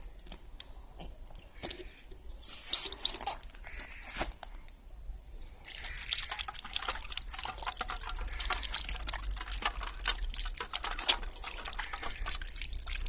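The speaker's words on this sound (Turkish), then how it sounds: "Bu suyu da ellerimizi yıkamak için." Water poured out for washing hands makes a steady, close splashing trickle that runs for about thirteen seconds, fuller and louder in the second half, with no speech.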